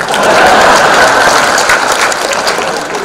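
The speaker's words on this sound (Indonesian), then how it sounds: "Tepuk tangan buat ikan." A crowd claps loudly and continuously for a few seconds, dense applause that tapers slightly toward the end.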